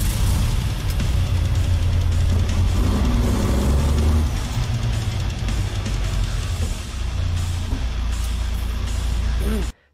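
An Iveco van engine drones steadily in a racing video game, a loud continuous hum that ends abruptly, with someone talking over it.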